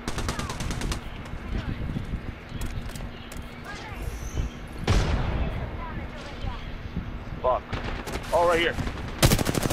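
Gunfire in the Apex Legends video game, rapid bursts of shots crackling through the mix with a loud burst at the end, under steady game noise while players talk over it.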